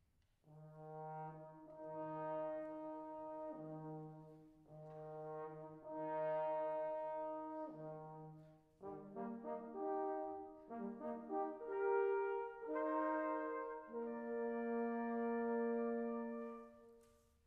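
Orchestral passage from Schumann's Symphony No. 2, where a horn call built on the horn's natural notes cuts in against a chromatic melody; sustained brass-like tones in steady phrases, loud and alone without speech.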